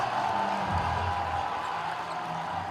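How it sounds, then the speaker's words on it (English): A basketball crowd at a live professional game cheers in a brief swell that rises and then eases off, a broad roar of many voices heard from within the arena. "the sound of this crowd cheering is music"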